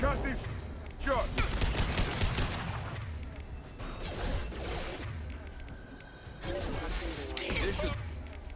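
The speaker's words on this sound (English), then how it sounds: "Firing concussive shot" A concussive shot fired in Mass Effect 2 on Insanity difficulty, a burst of weapon and impact noise mixed into dense combat sounds with several bursts across the clip, while a voice talks over the action.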